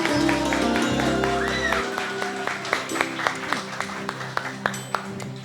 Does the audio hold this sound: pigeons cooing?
no